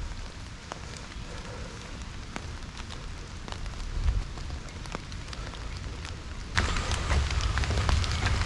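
Rain in Kandy, Sri Lanka falls on an umbrella as a steady, dense patter. It grows heavier and louder toward the end and is heard close up with no talk.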